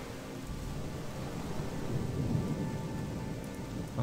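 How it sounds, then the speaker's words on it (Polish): Steady rain hisses across the whole stretch in the video game Gothic 2, with a low thunder rumble rolling underneath, fairly even and moderately loud with no talking. "ten deszcz na dłuższą metę będzie bardziej mnie wkurzał"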